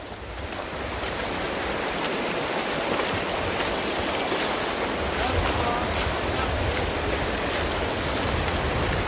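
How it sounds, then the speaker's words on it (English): Continuous splashing and rushing water of a mountain stream being waded across on a backpacking trip, steady and close, with a faint voice briefly underneath. "Water crossing."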